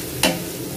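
Onion frying in a pan at home, a brief sharp burst of sizzle or stirring that fades into a low steady frying hiss, close and fairly quiet with no talk.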